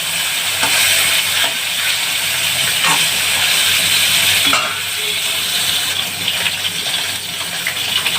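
Live koi fish frying in hot oil in a home kitchen, a steady loud sizzle and crackle with bursts of spatter throughout, no voices.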